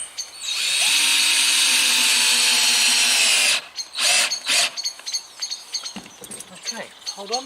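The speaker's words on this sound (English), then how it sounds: "Just ram screw in there very quickly." A power drill drives a screw into a wooden shed frame during sheeting, giving one loud sustained whirring burst of about three seconds, followed by clattering handling noises and a brief voice.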